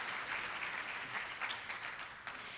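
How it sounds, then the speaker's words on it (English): Quiet, steady applause from a conference audience at a plenary session, a continuous patter of many hands heard from a distance throughout. "he deserves a round of applause"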